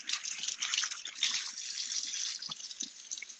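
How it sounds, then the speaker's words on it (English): Running water splashes and trickles steadily over something being rinsed of oil, a close, continuous wash with small drips throughout and no talk. "Wash the oil off."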